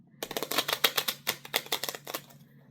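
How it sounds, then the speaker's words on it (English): A deck of playing cards is shuffled on a lap: a close, crisp run of rapid riffling bursts that rise and fall in quick succession, then stop. "You'll be able to hear me shuffling them here on my lap."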